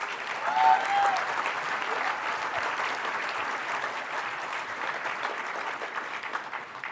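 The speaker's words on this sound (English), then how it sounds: "Clap." A dinner audience at a spring fundraiser gala and auction claps in steady, sustained applause. It fills the room evenly for several seconds during a keynote address.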